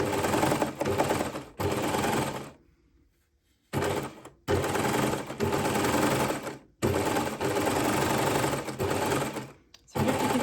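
Sewing machine stitching a rolled hem through fabric and stabilizer, loud rapid needle chatter in several long close bursts, separated by short pauses and one longer near-silent gap.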